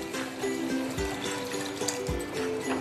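Water poured into a pan while making schezwan Maggi noodles gives a close, gentle trickling and gurgling pour with a few soft splashes, steady for a few seconds without voices.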